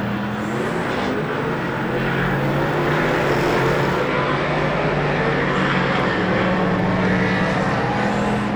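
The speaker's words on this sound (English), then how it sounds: "Really good close Superstock racing." Superstock race cars roaring around a track at night during a New Zealand Superstock Grand Prix in Wanganui, a loud, steady, dense engine drone from several cars racing close together, continuous throughout.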